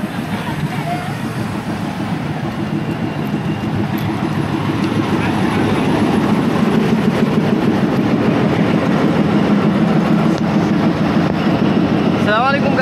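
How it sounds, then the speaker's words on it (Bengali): A train halts at the platform of Jagati railway station in Bangladesh, built in 1862. Its steady rumble and faint clatter run throughout, with voices around the platform as passengers board. "খুব অল্প সময় এই ট্রেনটা থেমে থাকে।"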